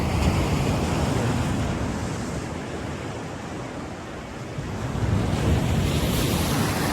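Steady rush of ocean surf at Diversion Road, Iligan City, with wind buffeting the microphone, swelling louder near the end as another wave rolls in.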